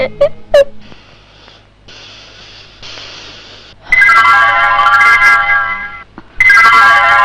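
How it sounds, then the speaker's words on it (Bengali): A mobile phone ringtone plays loudly and close in an indoor scene, a melodic electronic tune that starts, pauses briefly and then resumes, with no one talking over it. "ম্যাম, আপনার ফোন।"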